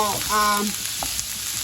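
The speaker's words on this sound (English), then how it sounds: "I will cover that up and let it saute for a couple minutes" Vegan potato sausage mixture sautéing in a pan, a steady close hiss of frying with a brief tonal squeak early on and small clicks from the pan.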